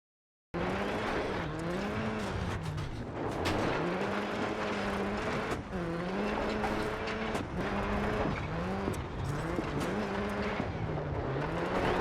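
Subaru Impreza WRC2001 rally car in DiRT 4 held in a long powerslide, its engine note rising and falling steadily through gear changes with continuous tire scrabble on a loose surface, loud and close throughout with no talk.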